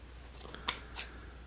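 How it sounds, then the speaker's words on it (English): Large scissors trim shed skin off a copperhead snake, giving two quick, crisp snips close by over a quiet background, with no talking. "these are some big scissors, but they're actually doing really good at getting down here close and getting this stuff off of him."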